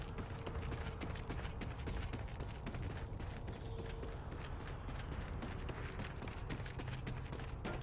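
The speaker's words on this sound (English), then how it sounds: "As you can see, my footsteps do make sound." Player footsteps on the Rust map in Call of Duty, a steady run of quick, scuffing steps over constant in-game mechanical clatter and background noise, with no voices.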